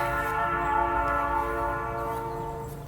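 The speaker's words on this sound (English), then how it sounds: "Excuse the train, guys. I'm working with the garage door open." A train rumbles past, heard through an open garage door, with its horn sounding in a long, steady, loud blast throughout, layered harmonic tones over low rolling rail noise.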